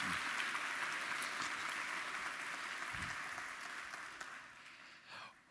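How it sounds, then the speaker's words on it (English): A church congregation claps through a round of applause at a traditional Sunday morning worship service at First Baptist Church in Prattville; the dense clapping is fairly soft and distant, then fades toward the end. "Give him a round of applause."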